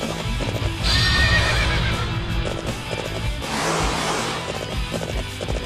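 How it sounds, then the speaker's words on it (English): A horse whinnies loudly in the Dynasty Warriors 7 video game, over steady rapid hoofbeats of galloping and a busy layer of game sound effects. "I'll make the horse go."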